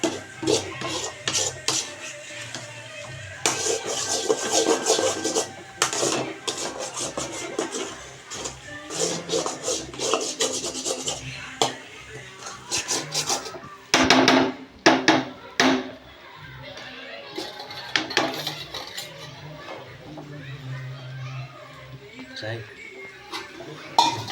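A spoon scrapes and clatters against a pan while egg podimas, a scrambled egg dish, is stirred, giving irregular clinks and bursts of utensil noise, with a voice talking over much of it.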